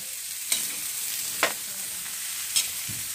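Pumpkin sweet cooks in a pan while a spoon stirs it. Three soft scraping strokes sound over a steady, even sizzle, with no voices.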